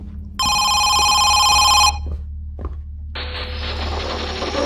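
A telephone rings loudly in the horror video game Home Sweet Home, one bright bell-like burst lasting about a second and a half, followed by a few clunks and a steady hiss with no talking.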